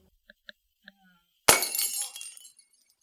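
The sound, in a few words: object dropped on floor and shattering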